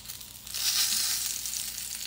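Peppers and onion for a mango habanero hot sauce sizzle and char in a hot pan, a close steady frying hiss that swells after the first half second and holds.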